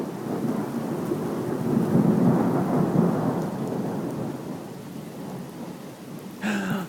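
Thunder rumbles long and loud through a thunderstorm with steady heavy rain during a tornado warning, a deep continuous roll that swells and fades, with a sharper burst near the end.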